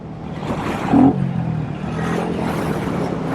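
A Royal Enfield Classic 350 motorcycle engine revs on a dirt and gravel road, a steady low thumping rumble that swells briefly into a sharper rev near the start and then holds as a fairly close drone.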